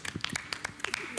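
Scattered hand claps from a small group at a prize-giving for a winning team, a dozen or so quick, uneven claps over about a second, fairly faint and slightly distant.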